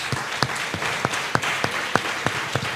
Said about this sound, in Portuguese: A ti o nosso aplauso, Senhor.